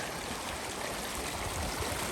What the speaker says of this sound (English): we got a beautiful little river we gotta cross